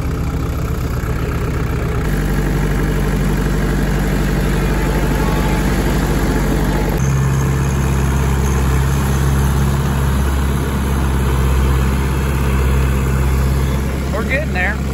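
Turbocharged 48-horsepower 55 Workmaster tractor engine running steadily at a loud, close idle-like drone, with a shift in engine tone partway through and talk heard over it.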